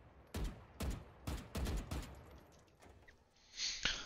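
Bursts of gunfire from the Eternity-era weapon in the Valorant video game: five or six loud, evenly spaced shots in a steady rhythm, followed by a brief high metallic ring near the end.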